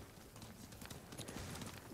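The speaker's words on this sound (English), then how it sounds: "This horse is so excited." Horse galloping in Ghost of Tsushima, a steady run of soft hoofbeats, fairly quiet and continuous, with no talk.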